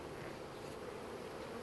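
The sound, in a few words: swarm of honey bees being shaken into a hive box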